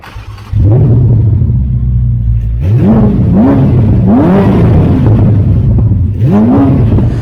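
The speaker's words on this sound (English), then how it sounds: "So let's hear how this Ferrari sounds." A Ferrari F8 Tributo twin-turbo V8 idles with a deep rumble, then gets blipped in several sharp revs that rise and fall, loud and close with no talking.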